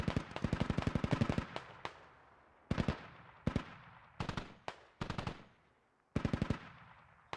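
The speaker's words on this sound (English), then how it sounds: "I guess that's the MG firing." A machine gun fires in the military shooter Squad, loud and close, in rapid bursts of several rounds separated by short silences, with each volley tailing off into an echo.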